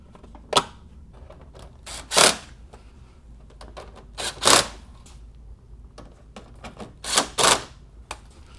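Plastic trim clips on a 2002-06 MINI Cooper snap into place one after another, sharp close clicks coming in pairs with quiet gaps between them.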